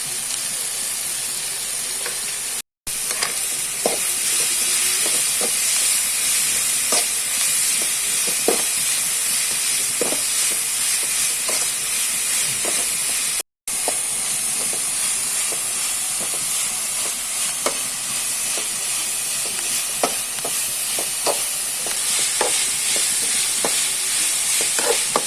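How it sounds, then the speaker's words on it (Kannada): Bangude fish curry (pulimunchi) frying in a pan, a constant loud hiss and sizzle with scattered spatula stirring clicks, close and continuous, briefly cut twice, with no speech. "ಇಲ್ಲಿ ನೀಟಾಗಿ ಫ್ರೈ ಮಾಡ್ತಾ ಇದ್ದೇವೆ"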